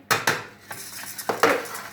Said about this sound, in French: je verse mes 350 grammes de lentilles